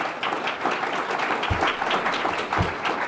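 An audience at a Conscious Capitalism business gathering applauds with a moderate, uneven patter of clapping and occasional heavier thumps.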